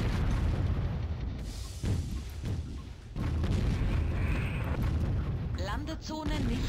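Artillery and gunfire in the real-time strategy game Warzone 2100, a dense, continuous rumble of distant booms and blasts with occasional sharper bursts, steady and loud throughout.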